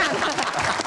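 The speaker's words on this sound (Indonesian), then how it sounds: "Oke, tepuk tangan." A studio audience at a Q&A talk show bursts into loud, dense applause. The clapping is close and continuous across the brief moment, with a voice faintly underneath.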